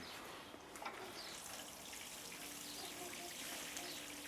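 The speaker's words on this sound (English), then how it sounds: "the next thing you want to do is give it a good watering in" Water pours gently onto the soil around a freshly transplanted tomato plant, a soft, faint, continuous trickle and splash with no voices.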